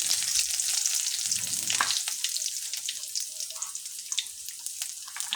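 Chopped garlic fries in a pan for a vegetable dish, giving a dense, close, crackling sizzle with scattered pops. A short lower clatter near the start suggests stirring.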